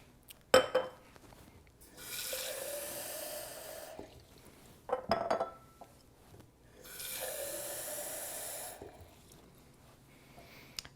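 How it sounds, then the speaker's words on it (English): Room-temperature tap water runs into two drinking glasses, each filled about a third of the way, in two separate steady pours of roughly two seconds apiece, with short knocks of glass being handled around them. "just fill them with regular room temperature tap water"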